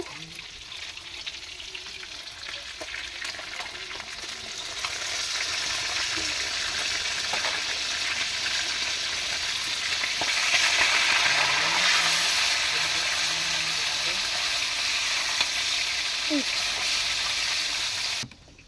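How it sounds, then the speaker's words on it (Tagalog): Food sizzles and crackles steadily in a hot pan, a dense hiss that swells louder midway, with faint voices and occasional clinks in the background. "Yan, dito naman tayo sa prito."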